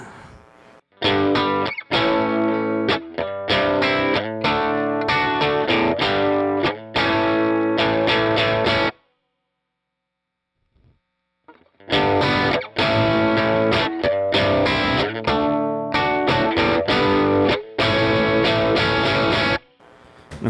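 Overdriven electric guitar chords through a cranked Dusky amp with a Rangemaster-style boost pedal, gritty amp breakup, played loud in two long phrases separated by a few seconds of silence.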